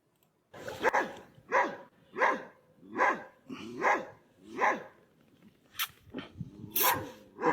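Dogs left stranded on rooftops during a flood bark repeatedly in a steady series of sharp, loud barks, with a few higher yips toward the end.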